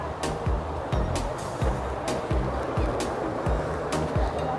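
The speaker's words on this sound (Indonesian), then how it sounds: "Suara air sungai kecil." A small stream near Kawah Sikidang in Dieng gives a steady broadband rush of flowing water, with soft rhythmic thuds recurring under it.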